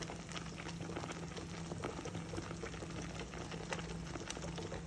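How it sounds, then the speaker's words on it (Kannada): Masala fries with a little added water in a pan for a quick egg curry, giving a steady, soft bubbling sizzle with small pops throughout. Close but quiet, with no voices. "ಈ ಮಸಾಲೆ ಜೊತೆಗೆ ಸ್ವಲ್ಪ ನೀರು ಹಾಕಿ ಫ್ರೈ ಮಾಡ್ಕೊಳ್ಳೋಣ."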